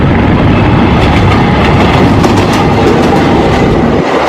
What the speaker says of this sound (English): This is a train locomotive.